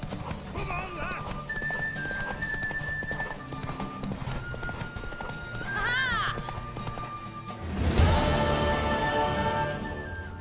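Horse hooves clip-clop at a run with neighs and whinnies in The Witcher 3: Wild Hunt, a rising gallop swelling near the end, with game voices talking over it.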